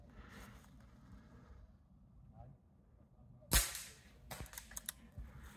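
An Air Arms S400 air rifle fires a single sharp, loud crack outdoors at a field target, followed by light rustling and clicks against a quiet wind-filled background.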